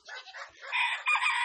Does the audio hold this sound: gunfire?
no